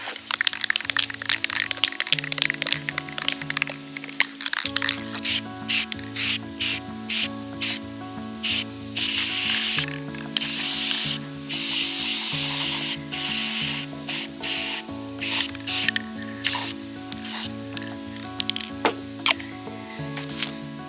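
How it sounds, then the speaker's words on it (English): Repeated bursts of metallic brass spray paint hissing from an aerosol can, short and long sprays in an irregular rhythm, close by, with music playing underneath throughout. "I settled on a metallic brass spray paint, so I'm gonna spray these up."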